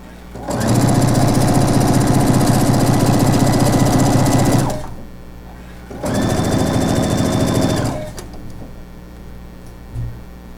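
A sewing machine running a straight seam on napkins: a loud, fast mechanical whirr lasting about four seconds, a brief pause, then a second shorter burst, followed by quiet.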